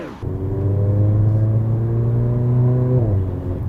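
A Mercedes-AMG GLA 45 engine revs up sharply and holds a loud, steady drone for a few seconds before the pitch drops as it eases off.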